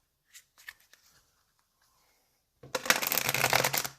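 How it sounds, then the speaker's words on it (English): Tarot cards rattle through a quick, crisp riffle shuffle close up, a dense burst of flicking after a few faint taps and a quiet pause. "Let's get one more shuffle and then we'll get right into it and get the cards pulled out."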